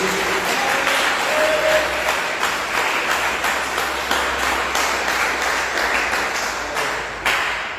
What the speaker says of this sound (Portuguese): Quem pode dar uma salva de palmas bem alegre para Jesus?